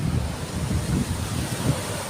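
Strong northeast monsoon wind buffets the microphone while heavy sea waves roll in off Burias Island, a continuous loud low roar with rumbling surges and no talking.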